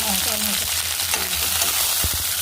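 Onion and tomato frying in a pan for a soft curry, a steady close sizzle with light stirring scrapes throughout.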